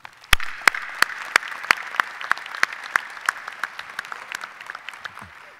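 An audience at a graduate commencement ceremony applauds graduates, sharp distinct claps standing out in a dense wash of clapping that swells at the start and slowly thins out.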